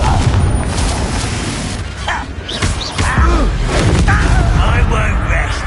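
Confringo fire spell blasting in Hogwarts Legacy, a few heavy booming impacts with rumbling thuds amid dense, loud combat noise and a voice.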